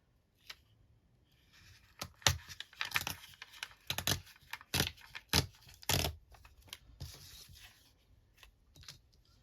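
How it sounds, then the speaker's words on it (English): Paper is ripped by hand for a junk journal, a series of close, sharp tearing bursts in irregular rhythm with brief rustling pauses between them. "Actually, instead of die cutting, maybe I'll rip."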